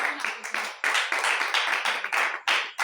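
Church congregation at an apostolic holiness church clapping in a quick steady rhythm, close and lively, with a voice faintly mixed in.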